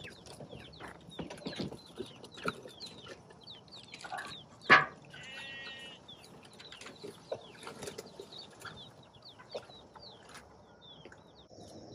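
Scattered soft clucks and calls from a flock of chickens outdoors on a farm, with a brief burst of wing flapping in the middle and a steady faint background.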